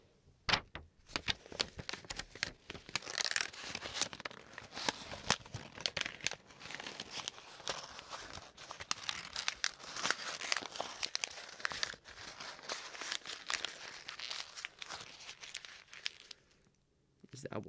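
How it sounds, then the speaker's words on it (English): Paper is crumpled and torn up close for a long stretch as an ASMR sound, a dense crackle of crinkles and rips that dies away at the end, with soft speech heard now and then. "let's begin with a bit of crumpling"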